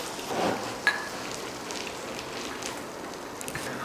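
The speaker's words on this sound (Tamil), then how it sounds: "இப்போ மறுபடியும் அதே போல் பொரிச்சு எடுத்துக்கலாம். வேர்க்கடலையில் இருக்க தோலெல்லாம் எடுக்க தேவையில்லை, தோலோடையே பொரிச்சு எடுத்துக்கலாம்." Peanuts with their skins on deep-fry in hot oil for a bakery-style mixture snack, giving a soft, continuous crackle and sizzle with a few sharper pops, quiet and close.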